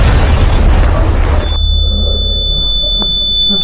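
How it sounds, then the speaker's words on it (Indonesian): A film explosion as a bomb-making mixture detonates: a loud, booming blast with heavy low rumble cuts off abruptly, leaving a high ringing tone over a lingering low drone. "tiba-tiba racikan itu meledak dan membuat semua yang ada di tempat itu mati berkeping-keping"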